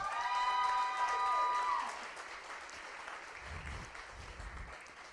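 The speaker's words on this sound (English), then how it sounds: "A big round of applause to them." Steady applause rises from the audience at the Hispanic Leadership Summit for the Hispanic Star Hub community leaders. It runs continuously at moderate loudness over fading music, with a few low thumps near the end.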